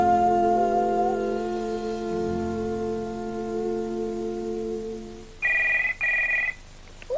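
An old-style telephone rings with two short, loud electric bell bursts near the end, following a sustained tonal musical note from a 1993 children's television show.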